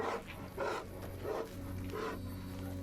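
Dog-like creatures in the video game Fallout: New Vegas growl and snarl in several rough, throaty bursts about half a second apart, moderately loud over a steady low game hum.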